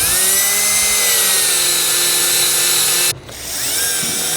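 A cordless power drill runs loud and close while parts are fastened during a DJI Agras T100 mist kit install, giving a steady high whine that cuts off briefly and then spins back up.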